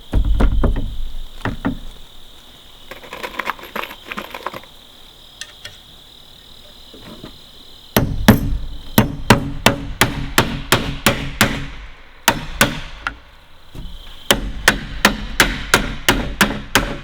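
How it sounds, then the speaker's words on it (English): Nails driven into a wooden gable end roof truss for a tiny house, with a rapid series of sharp, close hammer blows in bursts, and steady insect-like chirping running underneath. "just to make it easier to nail in the bottom"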